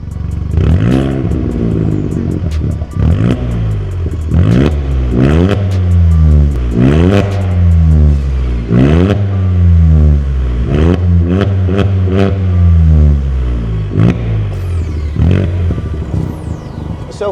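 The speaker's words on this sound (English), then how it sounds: "moving on to the full fat turbo back, which as you can hear, supplies a little bit more tone to the UP" A VW Up GTI with a full turbo-back performance exhaust revs hard again and again, each loud blip climbing and falling away in a steady, throaty rhythm close by.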